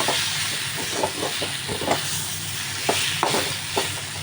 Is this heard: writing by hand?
no